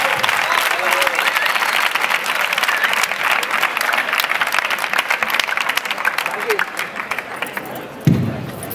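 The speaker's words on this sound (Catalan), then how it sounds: "De veritat, un aplaudiment per totes vosaltres." Applause from a crowd at a 15M movement general assembly in Terrassa, a sustained, dense clatter of many hands clapping at close range with scattered voices underneath, tapering and ending with a thump near the end.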